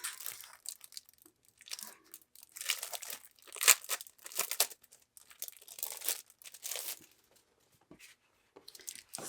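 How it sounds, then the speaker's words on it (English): Plastic packaging of a journaling sticker pack crinkled and torn open up close, bursts of sharp crackling and rustling broken by short pauses, no talking. "we also got a journaling sticker pack. Let me figure out how to open it"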